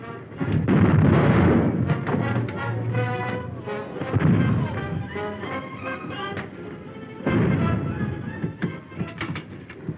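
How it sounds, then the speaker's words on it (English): A 1930s Civil War naval battle with a warship's cannon broadside roaring continuously, heavy low booms and rumbling blasts layered together, loud and sustained with surges of fresh firing. "Our broadside doesn't seem to have done any damage."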